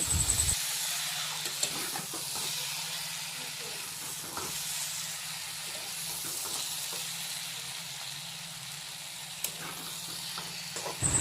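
Boiled potato and eggplant pieces fry in a pan over a village cooking fire, giving a steady sizzling hiss throughout with faint stirring clinks.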